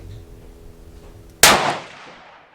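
A single sharp rifle shot cracks out toward a target over a chronograph, loud and close, its report trailing off over about a second after a steady low background hum.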